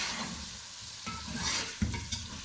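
Tomatoes frying in a pan while being stirred for a chicken shorba: a dense, close sizzle with scraping stirs and a couple of sharper utensil knocks, alone without voices.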